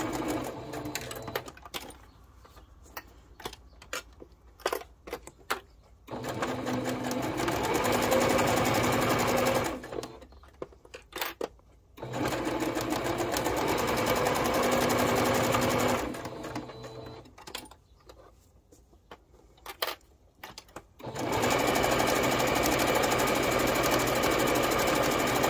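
A sewing machine runs in several steady multi-second bursts, stitching fabric for a handmade jar opener, with short quiet pauses between runs and no talking.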